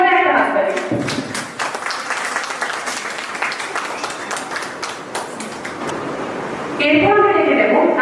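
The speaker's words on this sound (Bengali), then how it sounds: "জোরে একটা হাততালি হোক রঞ্জিতের জন্য।" Sustained crowd applause for a contestant named Ranjit on the stage of a regional reality talent show in Purulia, loud and steady for several seconds, with voices over it at the start and end.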